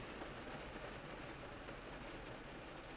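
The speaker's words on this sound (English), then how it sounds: "the rain patters satisfyingly onto the glass overhead" Rain patters onto a domed glass skylight overhead at night, a steady, even hiss of drops with no pauses or voices.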